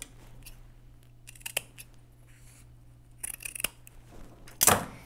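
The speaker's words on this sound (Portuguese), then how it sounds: "Vou cortar esse excesso." Fabric scissors snipping off excess boiled wool fabric, several close crisp cuts spread across the clip, the last one louder, in a quiet sewing room without talk.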